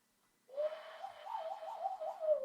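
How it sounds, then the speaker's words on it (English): A lone bird calls softly in a wavering, cooing song on a cold winter morning, starting abruptly and carrying on at a distance in otherwise quiet surroundings. "Oh, listen to the birds."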